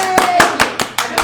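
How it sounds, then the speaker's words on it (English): In a home kitchen during a cooking demonstration, a small group gives a brief round of applause, six or so distinct claps in quick rhythm over a person talking. "I don't get applause very often."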